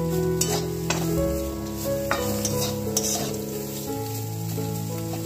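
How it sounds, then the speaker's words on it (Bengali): Bitter gourd slices cut into rounds frying in a pan, a loud continuous sizzle broken by several spatula scrapes and taps as they are stirred, with no talking. "সিম্পল করলা ভাজছি"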